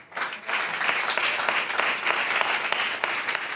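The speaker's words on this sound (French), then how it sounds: "Par applaudissement, qui croit en l'enfer et au paradis." Audience applause fills the room in a steady, dense wash of many hands clapping, close and continuous from start to finish, with no voices over it.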